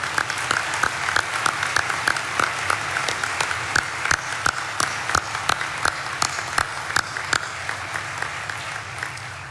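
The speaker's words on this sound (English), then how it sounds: "I ask that you join me in giving an incredible applause" A crowd at a Dakota State University commencement claps in a sustained round of applause, a dense patter of many hands with a few sharp, regular claps standing out near the microphone, holding steady before easing slightly at the end.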